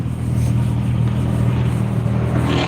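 A loud race car engine roars steadily nearby at a raceway, a deep continuous rumble with a rough, throaty edge and no voices.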